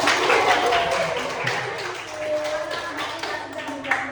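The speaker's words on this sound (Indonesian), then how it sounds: "Beri tepuk tangan kepada mahasiswa." Classroom applause for a student during a microteaching lesson, a steady wash of many hands clapping through the whole stretch, fairly loud and close, with faint voices mixed in.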